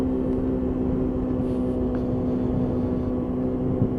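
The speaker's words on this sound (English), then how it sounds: "And that little 50cc engine just working away below me." A Lexmoto Echo Plus 50cc motorbike engine hums steadily beneath the rider while cruising on the road, a constant droning tone with wind rush and no talking.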